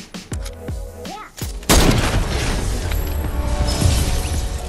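Sniper shot in Fortnite: a few sharp mechanical clicks and thumps, then a loud booming crack followed by a sustained rumbling, crackling tail of gunfire and debris, close and dominant.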